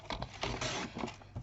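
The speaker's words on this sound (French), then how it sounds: "Donc là, la coupe du papier." A series of dry scraping, crunching cuts, uneven bursts of a paper trimmer blade slicing through card paper, close up with no talking.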